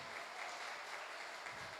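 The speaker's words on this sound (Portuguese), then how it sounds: "Aplauda Ele bem forte." Steady applause from a church congregation fills the whole stretch, a dense even patter of clapping with no talk over it.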